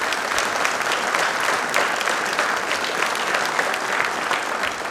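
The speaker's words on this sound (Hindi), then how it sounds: "ठीक है, डायरेक्टर का नाम है जब्बार पटेल। तो ये नाम है, ताली एक बार हो जाए।" Audience applause at a question-and-answer programme marking B. R. Ambedkar's birth anniversary, a loud, even and continuous burst of clapping from a large crowd with no speech on top.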